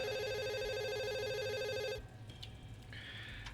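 In a video game, a telephone rings with a loud, steady electronic trill that runs for about two seconds and then cuts off, leaving faint game background sounds and a short tone.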